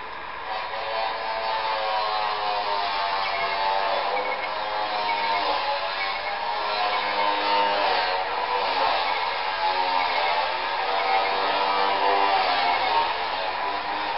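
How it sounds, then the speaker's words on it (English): An angle grinder cutting metal on a neighbour's shed whines steadily and harshly for the whole stretch, a continuous high buzzing drone heard at some distance, with no talking. "Just when I'm filming, they have to start using their angle grinder."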